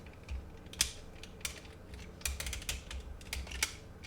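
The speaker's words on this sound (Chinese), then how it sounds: "这个地方的卡扣旋转起来，往下折，归到它正常的位子上" Plastic clips on a Transformers FT crocodile figure snapping and clicking into place, with sharp irregular clicks and creaks from handled plastic parts nearby, no talking.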